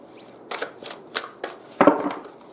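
Soul message cards are shuffled by hand in several quick, crisp riffling bursts, close and clear, with the fullest burst near the end and no talking.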